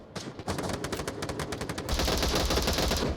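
Rapid bursts of gunfire from another gun in the VR shooter Onward during a competitive match, a fast string of sharp shots followed by a denser, louder sustained volley, no talk.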